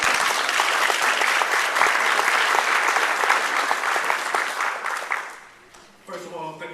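Audience at a Rotary club meeting applauding a steel drum performance, loud dense clapping from many hands that gradually thins and fades out, with a voice starting to speak at the very end.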